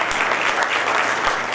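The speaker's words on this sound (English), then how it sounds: "Give me some nice round of applause." A convocation audience bursts into dense, loud applause, many hands clapping at once in a brief, sustained roar with no talk over it.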